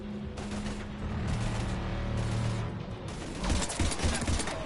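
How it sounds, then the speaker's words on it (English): Heavy gunfire in a Mass Effect Legendary Edition firefight against Husks: continuous loud bursts and rattling shots layered over a low rumbling battle backdrop, intensifying toward the end, with no voices. "We're taking heavy fire."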